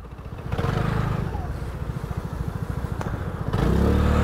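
A Vespa GTS Super 300 scooter with its larger engine idles and revs in a steady low pulsing rumble, close and loud, swelling louder near the end with no talking.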